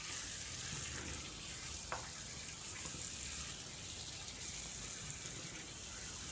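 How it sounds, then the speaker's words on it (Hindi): Meat, spices and chopped tomatoes fry in a pan, giving a steady, close sizzle that holds evenly throughout with no talking. "यहाँ पे गोश्त और मसालों को भूनते हुए 2 से 3 मिनट हो गए हैं"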